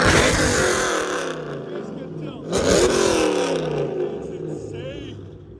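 A Dodge Challenger V8, either the SRT/8 6.1L or the Scat Pack 6.4L, revs loudly and close by. A strong surge swells twice, with a bark near the middle, over a steady rumble, and people talk around it.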